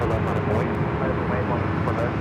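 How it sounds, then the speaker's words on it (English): An Airbus A350 taking off at LAX, a loud continuous jet engine roar heard from a distance as a broad steady rumble, with a person talking over it. "See how fast this A350 rotates."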